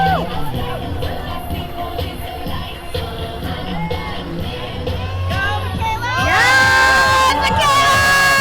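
A St. Patrick's Day parade crowd in Ventura County cheers and shouts loudly and continuously, children's high voices whooping over a dense roar, swelling brighter near the end.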